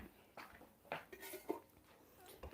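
A metal lid set onto a pot of homemade meatball soup, giving a few faint clinks and a soft rattle in a quiet kitchen.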